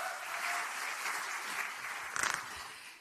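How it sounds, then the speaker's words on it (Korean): Applause from a crowd at a Democratic Party (더불어민주당) national regional committee chairs' gathering, a steady broad wash of clapping that runs through the whole moment and swells briefly near the end. "박수 보내주시기 바랍니다"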